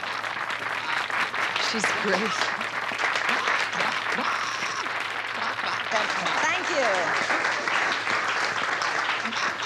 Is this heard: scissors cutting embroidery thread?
no